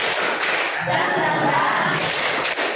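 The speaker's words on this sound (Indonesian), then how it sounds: "Tepuk semangat." A group performs a rhythmic spirit clap (tepuk semangat), sharp hand claps and thumps landing in a quick patterned beat, loud and close, with voices faintly mixed in.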